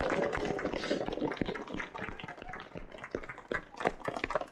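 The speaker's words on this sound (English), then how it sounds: "give him a big round of applause" Parkrun crowd at icy Mote Park clapping for a volunteer marking his 50th stint, a dense patter of many hands from nearby, steady across the moment with some voices mixed in.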